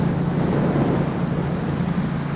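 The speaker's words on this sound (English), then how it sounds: "my exhaust is dramatically louder than it was last time I rode." A Yamaha FZ-07 fitted with a loud Akrapovic exhaust drones steadily at cruising speed, a low, even engine hum heard from the rider's position under constant rushing wind noise.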